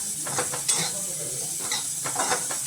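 Dry fruits dry-roasted in a pan for a homemade protein powder, with a steady soft sizzle and hiss and the scrape of stirring, close and continuous.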